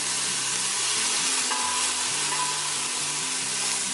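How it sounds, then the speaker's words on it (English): Vegetables sautéing in a hot pan give a steady, dense sizzle throughout, with a low hum running underneath and no voices. "But this is just to saute them and get more of their flavor out."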